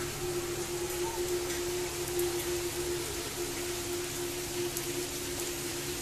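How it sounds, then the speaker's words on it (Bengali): Rain has just begun falling, a steady even patter and hiss continuing unbroken throughout with a faint low hum underneath and no voices. "এই যে দেখো কিরকম বৃষ্টি শুরু হয়েছে"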